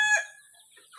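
Laying hen in a backyard flock letting out a brief, close cackle that fades into faint, scattered clucks.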